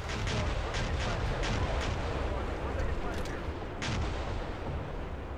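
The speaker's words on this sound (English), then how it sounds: "Oh, they called an artillery strike on me." An artillery strike in a tank combat simulator lands with heavy, booming explosions and repeated blasts over a continuous rumble, loud and close, while a voice talks over the barrage.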